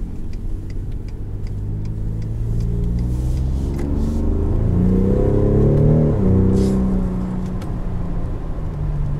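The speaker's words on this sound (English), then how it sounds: "There is a lot of punch to this thing. There is so much power. And the exhaust note's not overbearing at all" A 2019 Ford F-150 Raptor pickup truck's engine and exhaust rev up steadily, a deep rumbling growl rising in pitch and then easing back, loud and close with no talking.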